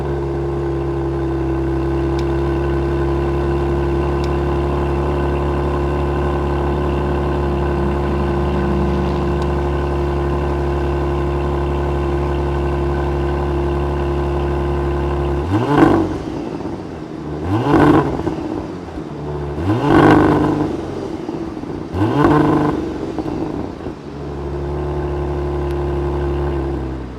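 A 2025 Porsche Panamera base model's 2.9-liter twin-turbo V6 with quad exhaust tips idles with a steady low drone, then revs sharply four times in quick succession before settling back to idle.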